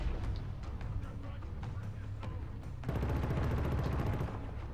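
Gunfire in the Killzone Shadow Fall shooter: scattered single shots crack through the first few seconds, then a dense, rapid automatic burst takes over and carries on loudly to the end.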